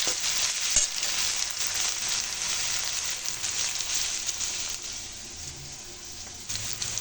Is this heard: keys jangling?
no